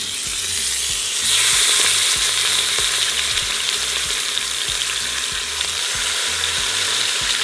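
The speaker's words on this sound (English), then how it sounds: "now we are ready to begin searing our meat" Meat searing in olive oil inside an Instant Pot, a loud, steady broadband sizzle that swells a little after the first second and holds near and continuous, with low background rumble and no talk.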